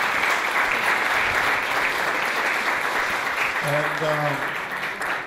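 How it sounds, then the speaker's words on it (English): Sustained audience applause at a startup networking event after a talk by a business angels association leader, dense clapping throughout with a brief voice rising near the end. "Let's give a round of applause to Baybars"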